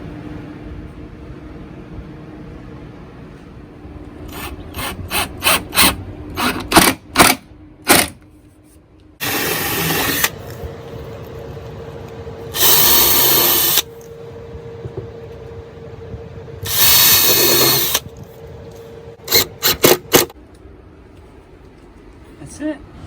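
A power drill drives screws to mount a van cabinet front, with rapid clicking bursts and several loud sustained whirring runs, close by, with people talking between them.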